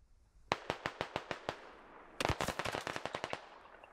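Rifle fire cracks out in SquadOps at an urban building with upper windows, a rhythmic string of single shots followed by a faster, denser volley, fairly close and sharp against quiet background.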